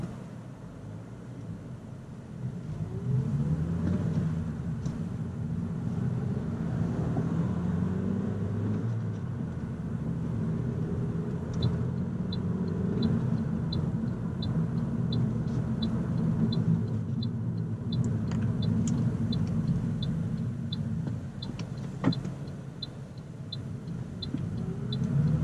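A 2018 Toyota Corolla iM with a manual transmission driving on the road, a steady moderate engine and road hum with shifting low tones as it pulls along, plus a faint repeating high chirp partway through.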